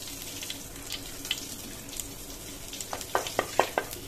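Spices, including nigella seeds and a dried red chilli, fry and get stirred in a pan: a soft, low sizzle with faint crackles, then a run of sharper scraping stirs near the close.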